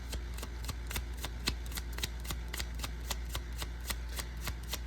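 Playing cards being shuffled and slid around on a table, a rapid run of crisp flicks and riffles repeating in close, quiet bursts, with no voices.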